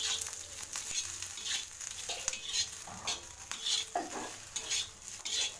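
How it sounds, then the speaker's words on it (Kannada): Sliced okra stir-fried on a flat tawa with oil, a soft sizzle under repeated scraping and clinks of a spatula against the pan in an irregular rhythm, no talking. "ಎಣ್ಣೆ ಹಾಕೊಂಡು ಮತ್ತೆ ಮಿಕ್ಸ್ ಮಾಡ್ಕೋಬೇಕು"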